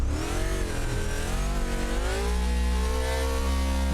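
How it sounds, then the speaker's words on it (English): Race truck engine in BeamNG Drive revving hard and close, pitch climbing and dipping as the throttle is worked, then holding a steady high roar with a deep rumble underneath. "We're going to rev it up about 25 and let her rip."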